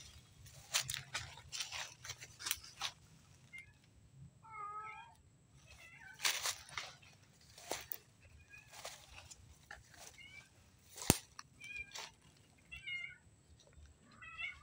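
Several cats meow repeatedly while following someone through a garden, their calls coming in short irregular bursts, some near and some farther off, over a quiet outdoor background with faint rustling.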